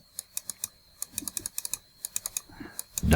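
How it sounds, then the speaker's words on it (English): Bracket keys on a computer keyboard are tapped repeatedly while brush size is adjusted during Photoshop retouching. The close, crisp clicks come singly and in quick clusters against a quiet background. "I'm using bracket key on a keyboard to increase or decrease my brush size"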